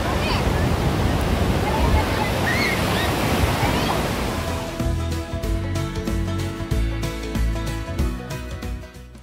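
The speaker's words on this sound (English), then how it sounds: "Si Coco, nahadlok sa balod." Ocean surf at Santa Monica beach by the pier, a loud, steady wash of breaking waves with wind noise that turns choppier and more broken toward the end.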